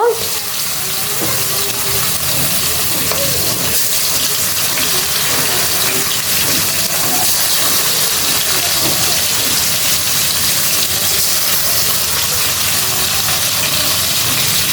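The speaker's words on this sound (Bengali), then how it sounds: "তো বন্ধুরা মাছগুলো আমি ভেজে নিচ্ছি" Sea fish fry in a pan with a loud, steady, unbroken sizzle that continues evenly, with no voices.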